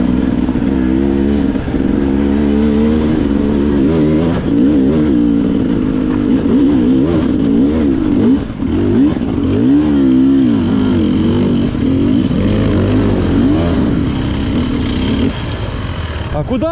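A car's engine misfires from a bad spark plug during a rally prologue. It drones loud and close from inside the car, its rough running pitch wavering and surging without pause.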